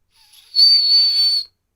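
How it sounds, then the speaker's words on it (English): A person whistling a single loud, piercing sustained note that rises in after a brief breathy start, holds steady for nearly a second, then stops abruptly into silence. "I can whistle like this."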